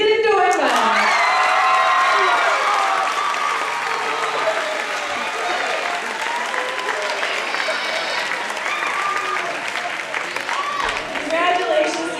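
A school crowd bursts into loud, sustained applause with cheers and whoops as the 2008 homecoming king is crowned at a high school coronation. The clapping stays dense and steady throughout, with an announcer's voice over the top.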